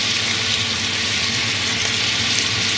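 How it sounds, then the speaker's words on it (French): Meat searing in a very hot cocotte for a beef dish, a loud steady close sizzle with no voices over it. "de façon à ce que la cocotte reste bien chaude pour les colorer"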